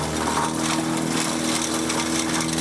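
A tractor-driven wood chipper, run by a compact tractor such as a 1025R, roars steadily up close with a continuous engine drone and dense grinding noise.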